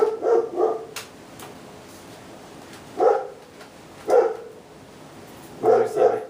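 A neighbor's dog barks in several separate bursts spread over a few seconds, somewhat distant and echoing against steady room noise.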